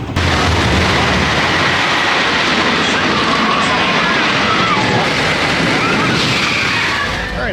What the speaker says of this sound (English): One of the best wooden coasters I've been on.